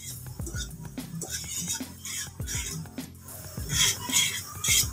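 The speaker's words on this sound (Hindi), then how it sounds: "नूडल्स मसाला इसको अच्छे से मिक्स कर लेंगे इस तरह" Boiled noodles being tossed with noodle masala in a pan, a utensil clinking and scraping against the metal in quick, close, irregular strokes with soft food sounds between.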